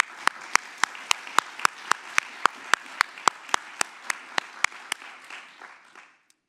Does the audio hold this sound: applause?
yes